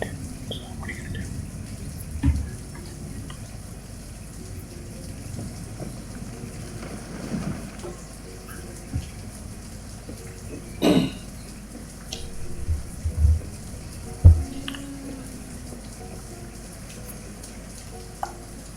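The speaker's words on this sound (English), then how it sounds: "We get some nice rain sounds in the background." Rain ambience in the video game Banished, a soft steady hiss of falling rain with occasional quiet clicks and thumps, low and continuous in the background.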